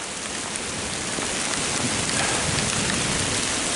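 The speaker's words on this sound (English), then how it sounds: "The rain is coming down real heavy." Heavy, cold rain pouring down on a high mountain peak in Virginia, a dense and steady hiss of drops beating on surfaces, close and constant throughout.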